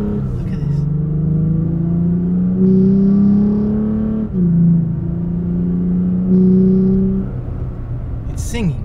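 Toyota Tacoma engine with a K&N cold air intake revving repeatedly, rising and falling in loud surges heard from inside the cab, with a person talking over it.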